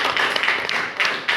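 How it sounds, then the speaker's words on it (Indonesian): A school class clapping hands together in a classroom, a short burst of scattered claps with a few sharper accents near the end. "tepuk tangan untuk si paling kita"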